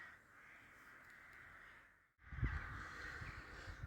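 Rooks above trees near a village church caw in a steady, raucous chorus at a distance, with a low rumble of wind or handling noise joining partway through.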